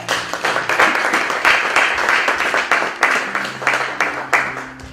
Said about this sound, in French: Merci les femmes parce que vous avez applaudi